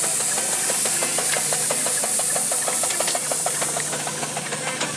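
Old steam engine at the Stotfold steam engine fair, hissing steadily and loudly, with a regular rhythmic knocking beat running throughout.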